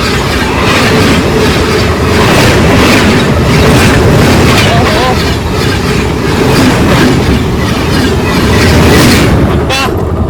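A close train rolls by loudly, wheels clacking rhythmically over the rails with occasional metallic squeals, continuous and roaring throughout.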